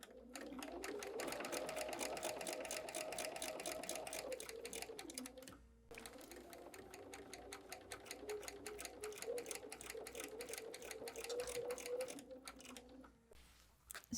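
A sewing machine stitches quilting fabric in rapid, even mechanical chatter. It runs in two long bursts with a brief pause near the middle and a slowdown at the end, heard close and with no talk.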